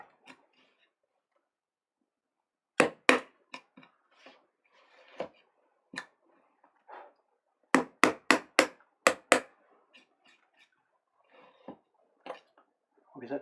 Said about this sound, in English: Now we'll switch to the bigger chisel here